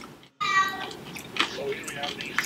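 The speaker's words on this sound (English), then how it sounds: "A random ass cat just walked up" A cat meowing nearby, one clear drawn-out meow followed by softer mews and rustling, with people talking around it.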